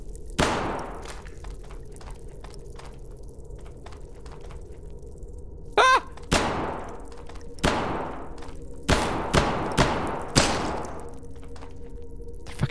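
Gunfire in the video game Hidden Deep as shots hit the ground: a series of sharp, booming reports with decaying tails, first spaced out, then coming in a quicker cluster, loud and close, with no talk.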